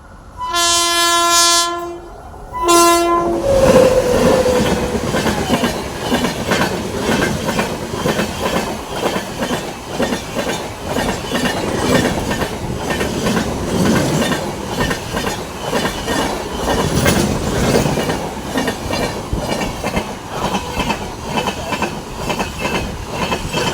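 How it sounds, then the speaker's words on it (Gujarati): A train horn blasts loudly at first as a train arrives at a station, then it rumbles and clatters steadily past, wheels clacking nearby, with wind noise throughout. "તો ટ્રેન આવી ગઈ છે"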